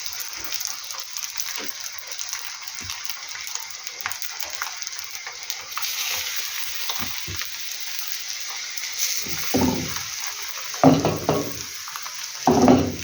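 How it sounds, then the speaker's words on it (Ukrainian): Oil sizzles steadily in a pan, with occasional clinks and sharper crackles toward the end as eggplant slices are set in to fry. "Заберу і буду ставити смажити їх."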